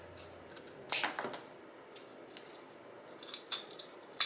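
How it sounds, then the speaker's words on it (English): A jumbo wooden popsicle stick being cut with scissors: a couple of sharp snips and crunches near the start, then quieter scattered clicks and a final snip, all close up with no talking. "I'm going to cut this jumbo popsicle stick down, hopefully without splitting it."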